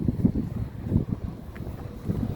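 Steady gusty wind buffets the microphone out on open water at night while fishing, a constant low rumble with irregular swells, no voices.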